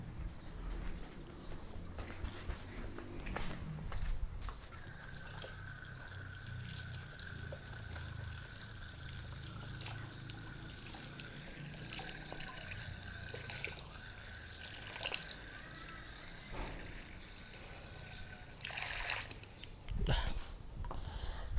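Young leaves, gathered for a pigeon eye remedy, rinsed under running water: a steady close splashing trickle lasting the whole stretch, with occasional handling clatter, faint bird calls and a thin steady tone in the background.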